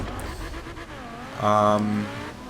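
A Colossus car engine in the racing game Forza Horizon 4, revving through rising and falling tones and swelling into a loud, sustained high-pitched roar midway, heard alone.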